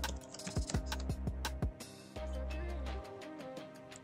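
Quick bursts of keystrokes on a computer keyboard while entering login details, close and crisp, in two runs of rapid clicking separated by a short pause, no talk.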